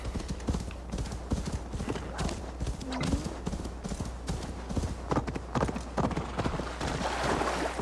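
Rapid clip-clop of horse hooves at a steady trot in the video game Assassin's Creed Valhalla, continuous and fairly close, with a brief whinny partway through.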